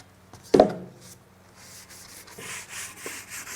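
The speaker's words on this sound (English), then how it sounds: "This is a quick wipe, just make sure there's no sawdust on here anywhere." Cloth wiping down a sanded wooden storage box to clear sawdust, a sharp knock at the start followed by soft, uneven rubbing swishes nearby.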